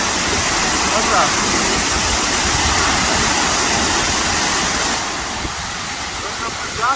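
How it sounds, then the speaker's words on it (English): Jackmore Falls in Sri Lanka pours in a loud, continuous rushing roar close by, steady for most of the stretch before easing slightly toward the end. "Welcome to the Jackmore Falls."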